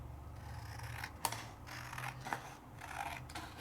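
Scissors snip through a paper card for a simple interactive card, a few crisp cuts close up with a sharp snap near the middle and another shortly after, under a soft low background hum.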